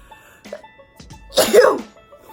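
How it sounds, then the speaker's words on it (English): A single sharp sneeze close up, preceded by a couple of small breathy catches and a soft intake, then quiet. "I have to sneeze."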